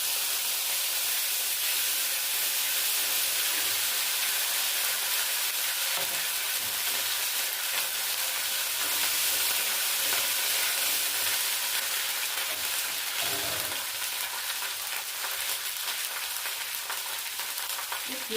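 Cumin seeds and ginger paste fry in a pan for a papaya vegetable dish, giving a steady, close hiss of sizzling oil with occasional faint stirring scrapes throughout.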